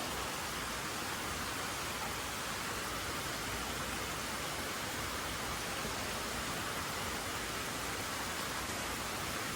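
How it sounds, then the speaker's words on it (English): Rain pouring down outside, a constant broad hiss of falling water that holds steady throughout with no speech. "we're just sitting here waiting on the rain to back off"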